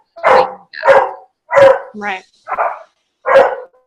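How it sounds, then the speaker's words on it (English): Several dogs bark in short, loud bursts close by, about six barks spread evenly with a brief higher yip among them, while a person speaks a few words between them, as the dogs wait eagerly before a walk. "if you guys can hear my dogs barking because they're about to be walked"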